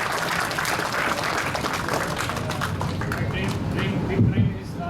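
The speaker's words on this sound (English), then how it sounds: "First of all, clap for him to do this." An orientation-day audience of students claps in a dense, continuous patter, with voices mixed in and a louder thump near the end.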